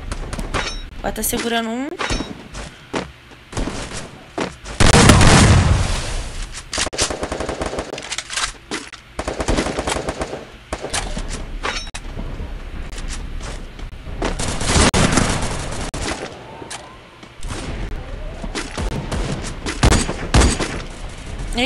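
Heavy gunfire bursts and a grenade blast in a shooting video game, loud repeated automatic fire and booms throughout, under excited commentary.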